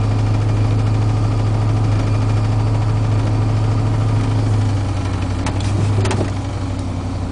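1977 Blazer with a 600 CFM Holley carburetor, manual choke, Flowtech headers and straight pipes idling after a cold start in snow, a loud, close, steady low rumble that eases slightly toward the end.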